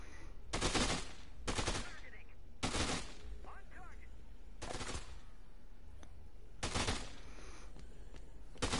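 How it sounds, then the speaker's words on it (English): Gunfire in the video game Dead Rising 2 comes in several short loud bursts spaced a second or two apart, with players talking over and between the shots. "let's just use the gun."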